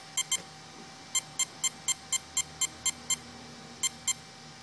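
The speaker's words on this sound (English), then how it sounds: "You get the red beep." A Mamba electronic speed controller beeping during programming, a series of short high electronic beeps in small groups and an evenly spaced run, clear against a faint steady hum.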